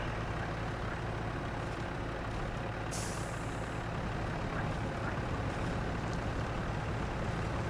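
Heavy truck engine crawling in low gear through deep mud in SnowRunner, a constant low rumbling drone with a brief hiss of air partway through, steady and close with no voices.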